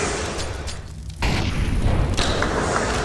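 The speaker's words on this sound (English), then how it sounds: "Preemptive grenades from Astralis towards the apartments." Grenades going off in a Counter-Strike match, a heavy boom that swells into a sustained rumbling roar after a brief quiet gap, loud and close with no voices over it.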